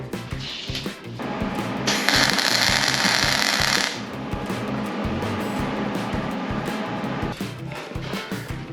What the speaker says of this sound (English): this time I'm actually gonna try to weld a nut on the other one and see what happens